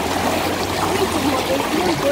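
Floodwater from a strong current rushes steadily through a fully flooded yard in Gazimursky Zavod, making a continuous close wash and trickle with faint gurgles throughout.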